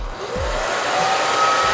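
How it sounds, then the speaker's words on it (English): A blow dryer blowing into a hair drying cap, a loud steady whooshing hiss with a faint whine, switching on and holding constant up close. "you put the blow dryer in this end"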